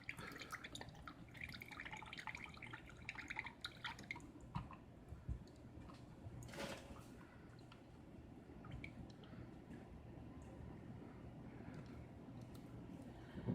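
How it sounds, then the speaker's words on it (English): Liquid from canned diced tomatoes drains into a cup, a quiet run of drips and trickling with small splashes and one brief louder clatter midway. "I drain the liquid into a cup."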